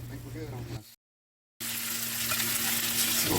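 Bologna slices frying in a hot pan for fried bologna sandwiches, a steady broadband sizzle with a steady hum beneath, cut by a brief silent gap before the sizzling returns louder.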